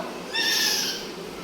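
A person vocally imitates a horse's neigh, a single loud, close whinny-like cry with a wavering tone lasting about a second, heard alone.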